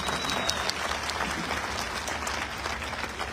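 A crowd at a Varanasi meeting gives loud, vigorous applause to welcome first-time attendees, with a thick, continuous mass of clapping throughout.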